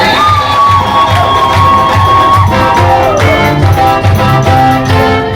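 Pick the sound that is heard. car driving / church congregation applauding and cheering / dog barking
church congregation applauding and cheering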